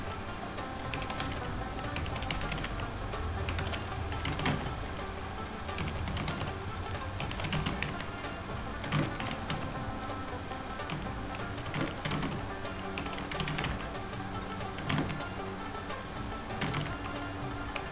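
Someone types on a computer keyboard, producing a quiet, steady patter of small key clicks that runs continuously without pauses.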